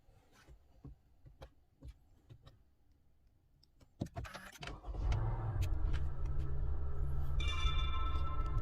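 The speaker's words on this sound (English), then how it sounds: "Let's start the engine." A 2022 Honda City's engine starts after a few scattered clicks and light rustling inside the car, catching about halfway through and settling into a steady, fairly loud idle hum that continues to the end, with no voices.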